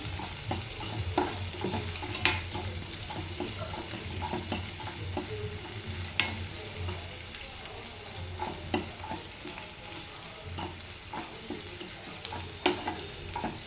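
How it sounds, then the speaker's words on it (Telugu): Green chillies fry in a pan for a poha dish with egg, a continuous close sizzle punctuated by frequent rhythmic clicks and scrapes of a spatula stirring throughout. "అలాగే పచ్చిమిర్చి వేస్తున్నాను ఇవన్నీ ఫ్రై అవ్వాలి మంచిగా వేయించుకోవాలి"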